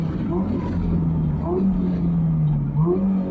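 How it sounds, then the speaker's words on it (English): A Caterham Supersport racecar engine drones close and moderately loud from inside the car, with quick dips and rises in pitch as gears are shifted. "So you'll notice on the upshifts, I shift pretty much as fast as possible."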